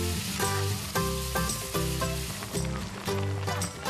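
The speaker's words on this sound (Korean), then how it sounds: "적당한 크기로 썰어 냄비에 넣고 볶아주는데요." Chopped water snake meat stir-frying in a pot for snake soup, a loud continuous sizzle under background music with a rhythmic beat.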